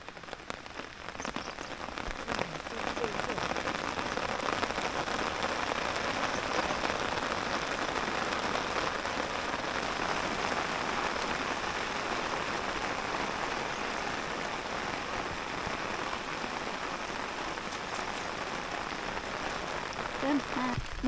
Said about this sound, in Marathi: पाऊस तिकडे आवाज होतो पावसाचा